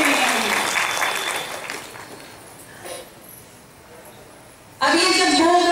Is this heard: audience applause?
yes